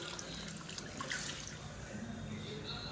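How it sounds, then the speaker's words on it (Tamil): Water poured into a pot of sambar with mashed dal while cooking, a soft steady trickle and splash heard faintly and close, continuing evenly. "இப்போ சாம்பாருக்கு தேவையான தண்ணி சேர்த்துக்கலாம்."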